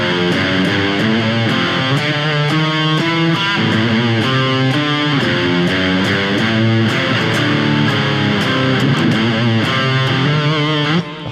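Someone plays a song's riff, in A pentatonic, on distorted electric guitar, a loud, steady, rhythmic pattern of picked notes and chords repeating without pause until a brief stop at the end.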